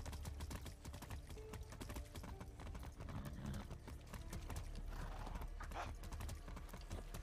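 A horse in the Far Cry 6 video game gallops with rapid, steady hoofbeats and lets out a neigh partway through, loud and close over a game soundscape.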